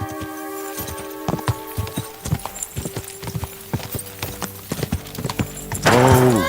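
Horse hooves clip-clop in the video game Kingdom Come: Deliverance 2, a loud, close, uneven run of hoofbeats on hard ground, ending in a sharp whinny.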